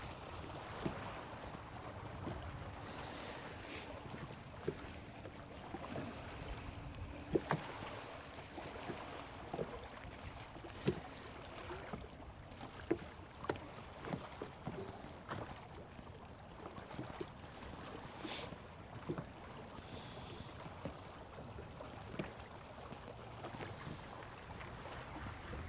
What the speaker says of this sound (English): It's just the wind. The wind is the problem.